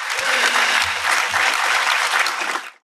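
An audience applauds a women's ice skating team at a county address, with loud, dense clapping from a crowd indoors that holds steady for a few seconds before cutting off abruptly.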